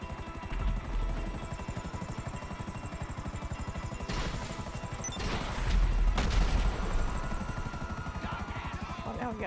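Helicopter rotors thump steadily in the video game GTA 5 Online while bursts of rapid gunfire and heavy impacts break through, loud and close, with brief voices in the mix.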